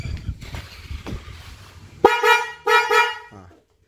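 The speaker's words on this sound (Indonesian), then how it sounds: "Ini kita pasang klakson baru, kita pakai Denso klakson keong." A newly fitted Denso snail horn on a 2004 ex-taxi car gives two loud, brassy honks close by, each lasting about half a second, after some quiet clattering and handling noise.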